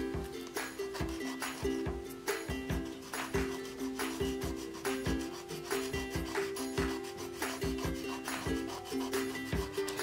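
Nail file shaping coffin-shaped nails: quick, steady rasping strokes repeating in an even rhythm, close and clear.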